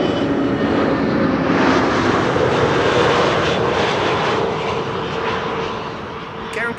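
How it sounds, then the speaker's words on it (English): An SAS Airbus A320neo arriving from Stockholm at Amsterdam Schiphol gives a loud, continuous broadband engine roar that holds steady, then gradually fades. "SAS flight 1553, A320neo, arriving from Stockholm."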